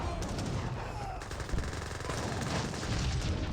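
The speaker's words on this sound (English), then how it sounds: "they're getting annihilated by the Gatling guns" Rapid Gatling gun fire in an Age of Empires 3 battle, a dense continuous rattle of shots mixed with broad combat noise throughout, loud and sustained.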